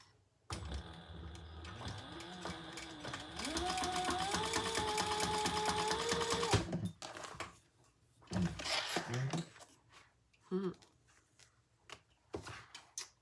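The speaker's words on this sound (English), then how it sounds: "I'm going to just reinforce these stitches here." A sewing machine runs for several seconds, reinforcing stitches on a Cascadia crossbody bag, its motor whirring and rising in pitch, followed by clatter and handling of the fabric.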